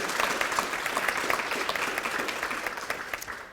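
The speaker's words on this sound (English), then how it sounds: "please give them a big round of applause" Audience applause for members of a county commission at a Harford County Leading Women event, a dense, steady wash of many hands clapping at once that holds loud for a few seconds and eases slightly toward the end.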